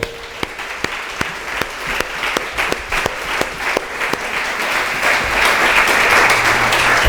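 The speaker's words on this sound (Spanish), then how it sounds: "Denle un aplauso fuerte" Loud applause from a church congregation, a few distinct claps at first that swell into a dense, steady wash of clapping filling the room and growing louder toward the end.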